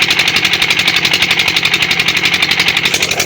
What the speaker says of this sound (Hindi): तो आज मैं आपको ट्यूबवेल की वीडियो दिखाने लगा हूँ, चला हुआ है ट्यूबवेल